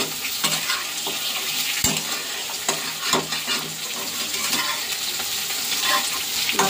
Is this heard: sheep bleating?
no